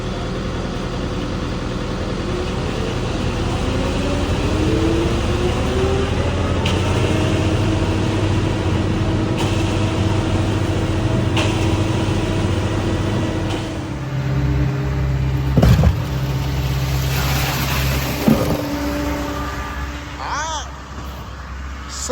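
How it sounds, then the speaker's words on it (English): A concrete pump truck runs steadily as it pumps concrete through a long hose, a droning engine with rhythmic mechanical knocks under it, while people talk nearby. "second truck pumping this gray goodness"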